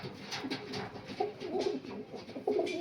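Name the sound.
pigeons cooing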